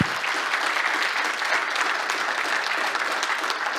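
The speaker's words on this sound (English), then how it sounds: "Can we have a round of applause for?" Steady, dense applause from an audience fills the whole stretch, many hands clapping at an even loudness with no speech over it.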